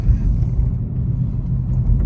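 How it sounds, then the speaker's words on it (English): A Rivian R1T electric pickup rolling through Monday morning traffic, heard as a steady low tire and road rumble from inside the cab, fairly loud and even, with no speech. "Just working our way through the morning traffic here to get out of town."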